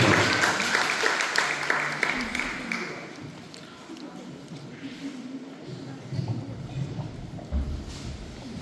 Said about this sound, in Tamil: எங்கே உங்கள் அமோகமான பாராட்டுகள் இருக்கிறது.